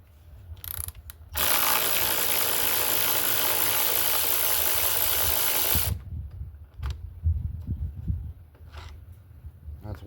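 A ratchet spins 10mm bolts out of a 22-inch Toro Recycler mower with a Kohler engine, a rapid continuous clicking run of about four seconds followed by scattered clanks and handling noise, close up, no talking.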